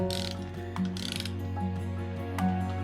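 A torque wrench ratchets as a bolt is tightened during elevator assembly, giving a run of quick metallic clicks in short bursts over a steady low mechanical hum, close up and without talk.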